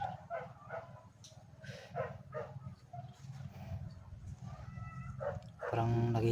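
Dogs barking in a scattered series of yaps and barks at a middle distance, with some whimpering, and a louder, closer bark near the end.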